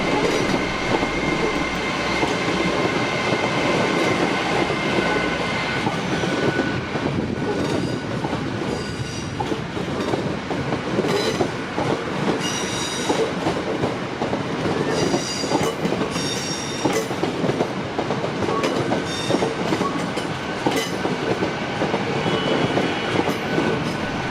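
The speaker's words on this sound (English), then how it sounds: "departing under diesel power to head for the East Coast Main Line via the slow but scenic Tyne Valley Line" A train departs under diesel power on the Cumbrian Coast line, its engine rumbling steadily as wagons roll past with clickety-clack wheel beats and occasional squeals, loud and close throughout with no voices.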